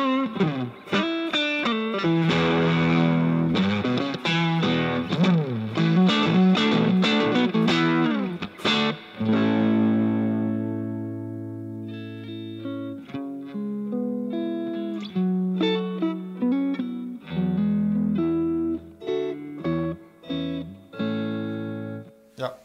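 Electric guitar plays through a Fender Super Reverb blackface amp with the mids cranked, a strummed chord passage followed by sustained single notes and chords ringing out, loud and close with no talking.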